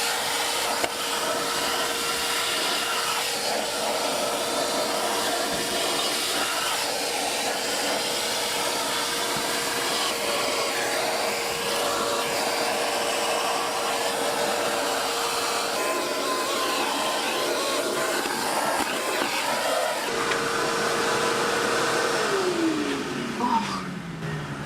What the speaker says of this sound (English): Quick once over of a vacuum done just to get most of the dirt out